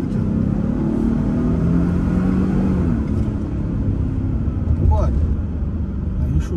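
Engine of a 2023 Ford Expedition XLT with turbo pulls through acceleration, a steady low rumble swelling and shifting under speech inside the cabin.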